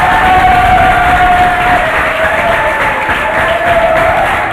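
A studio audience claps and cheers loudly and steadily at the opening of a Congolese television variety show, a dense, continuous wash of applause with crowd voices and a faint sustained whistle-like tone running through it.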